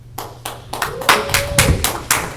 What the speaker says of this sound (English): You'll hold your applause, please.